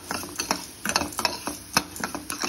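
Chili and curry leaves frying in a pan, a soft sizzle under repeated rhythmic clinks and scrapes of a spoon stirring against the pan, close and fairly quiet.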